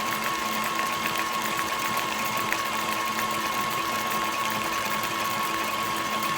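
A mixer runs at steady speed while half-and-half blends into a homemade vanilla ice cream base, giving a loud, continuous motor whir with a constant mechanical hum close by.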